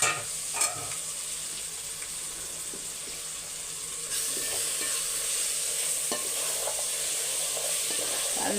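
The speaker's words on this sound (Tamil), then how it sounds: "நல்லா வதக்கி விட்டுக்கோங்க." Carrot, beans, onion and tomato sauté in a hot pan with a loud, steady sizzle. A spoon scrapes and stirs them now and then, and the frying grows a little louder partway through.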